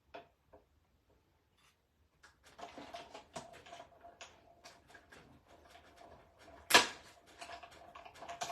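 A die-cutting machine clicks and grinds as paper is cut, in irregular mechanical ticks with one sharp, loud snap near the end.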